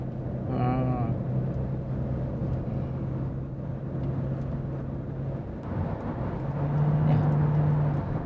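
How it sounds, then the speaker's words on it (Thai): Engine and road noise inside a Toyota C-HR under acceleration, a steady muffled drone with a humming tone that rises in pitch briefly, while someone talks over it throughout. "แน่นอน ว่าเวลาเร่งนะครับก็จะมี เสียงเครื่องอยู่บ้างนะครับ"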